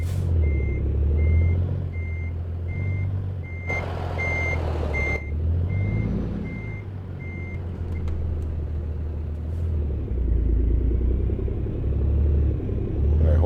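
Truck reversing alarm in American Truck Simulator, a steady evenly spaced beep repeating for several seconds over a loud low diesel engine rumble, with a brief burst of air noise midway.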